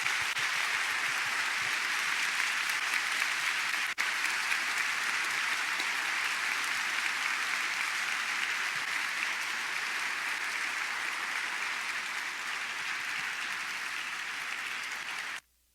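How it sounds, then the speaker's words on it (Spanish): A church congregation applauds a priest in long, steady, dense clapping that fills the room at even loudness, with one brief knock partway through, before stopping abruptly at the end. "Un aplauso al Padre, Monseñor."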